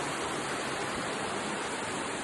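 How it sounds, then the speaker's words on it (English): A flowing creek fills the air with a steady, broadband rushing wash of water, close and constant with no pauses and no other sounds. "I don't know how loud this creek is on this"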